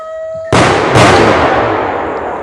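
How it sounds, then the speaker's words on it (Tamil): A Diwali firecracker rocket goes off with a sudden loud burst, then a second crack and a long hissing, crackling decay, close by with no talk. "அடுத்த பட்டாசு நம்ம பற்ற வச்சுட்டோம்"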